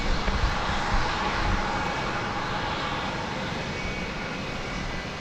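A jet airliner departs DFW Airport on a flight to Minneapolis, giving a steady, broad engine roar that holds fairly even throughout and tapers slightly toward the end, with no talk.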